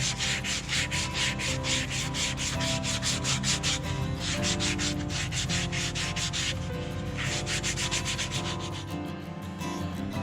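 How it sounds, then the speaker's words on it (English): Rhythmic hand sanding of a wood carving blank with coarse sanding pads, quick back-and-forth scratchy strokes in a steady pattern, close up, pausing briefly before resuming. "These coarse sanding pads."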